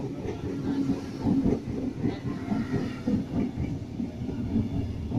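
A T12 electric train rumbles into platform 3 at Arncliffe station in Sydney with a steady low roar and faint clattering wheels, fairly close and continuous throughout.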